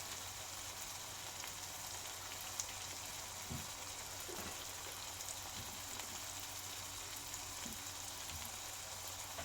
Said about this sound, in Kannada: ಎಲ್ಲ ಮಸಾಲೆಗಳು ಎಣ್ಣೆಯಲ್ಲಿ ಚೆನ್ನಾಗಿ ಫ್ರೈ ಆಗಬೇಕು